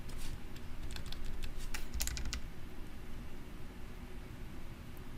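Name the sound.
typing on a computer keyboard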